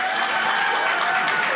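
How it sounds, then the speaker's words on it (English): A large live audience at Yale University applauds steadily, a dense continuous wash of clapping that holds at an even level throughout, with no voices rising above it. "there are that many people applauding"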